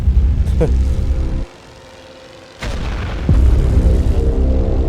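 Booming explosions from the Elite Great War Western Front Allies video game as a tank is destroyed during an aerial bombing run, loud and dense over a rumbling battle bed, with a sudden drop to near quiet before the roar returns.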